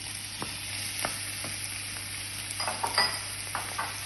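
King prawn fried rice with spring onion and peppers sizzles steadily in a wok, with scattered utensil clinks and scraping stirs over the continuous frying hiss.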